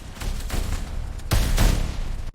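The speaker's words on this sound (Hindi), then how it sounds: "वे छतों और खिड़कियों की तरफ अंधाधुंध गोलियां चलाने लगे" Dense, indiscriminate rifle and machine-gun fire from German soldiers in a wartime street battle, a sustained loud fusillade with heavier bursts toward the end.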